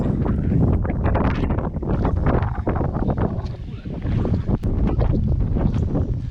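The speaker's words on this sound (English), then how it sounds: "It's very windy." Strong wind by the sea buffets the microphone in heavy, continuous gusts of roaring rumble, loud and unbroken throughout, with no voices heard.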